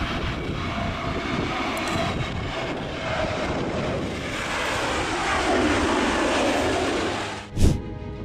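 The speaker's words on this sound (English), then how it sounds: "A321neo landed in Crosswind." An Airbus A321neo airliner lands in a crosswind. Its engines roar steadily as a broad, loud rush that swells and shifts in pitch, then a brief sharp thump cuts through near the end.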